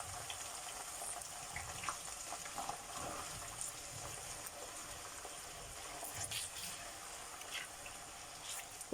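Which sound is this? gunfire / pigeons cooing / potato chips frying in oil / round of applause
potato chips frying in oil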